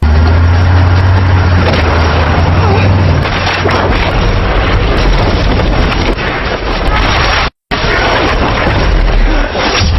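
A car is started and driven into a water tower pole, with a low engine hum giving way to a loud, dense crash of splintering wood and booming impact noise that cuts out for an instant near the end.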